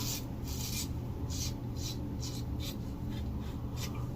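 Light razor buffing strokes over wet, lathered skin during a wet shave, a series of soft rhythmic scraping swipes repeating roughly every half second, close and quiet over a steady low background hum.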